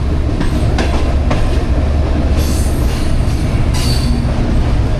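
A Pak Business Express train rolls through Multan Cantt station with a loud, continuous rumble of wheels on track, rhythmic clacking and squealing metal, recorded close from on board.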